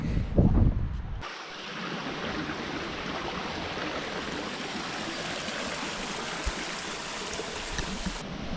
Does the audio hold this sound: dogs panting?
no